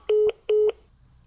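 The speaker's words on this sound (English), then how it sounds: "A fake phone hang-up sound?" Fake telephone hang-up sound effect: two identical short electronic beeps in quick succession, loud and close, followed by quiet.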